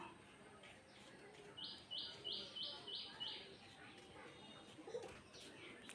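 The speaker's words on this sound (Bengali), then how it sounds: "এই হলো ডায়মন্ড ডাব পাখিগুলো আমার" Pet diamond doves calling indoors, a rapid series of about six soft, even chirping notes close by, with a faint extra call a moment later over low room noise.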